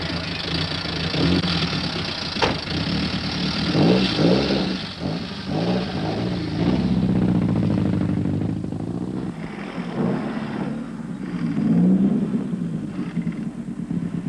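A Datsun rally car's engine rumbles at a low, steady pitch while rolling into a service area at the 1979 Southern Cross Rally, with a few small swells in revs, loud and close.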